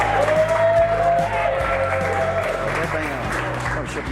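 A comedy club audience applauding as the first comic is brought to the stage, with loud, sustained clapping and cheering under a host's amplified voice.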